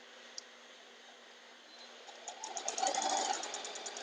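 A sewing machine stitching small 1.5-inch quilt pieces for a scrap-stash shuffle quilt, faint at first, then a short rising run of rapid needle chatter that peaks and eases off, with no talk.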